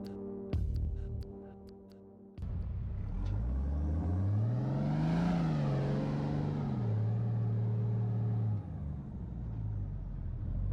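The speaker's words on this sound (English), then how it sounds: "today we're going to be tackling some of the best four-wheel driving in Australia." A 4x4 vehicle engine on an Australian beach drive near Beachport on the Limestone Coast, a loud steady rumble that revs up and shifts pitch, alone without talk.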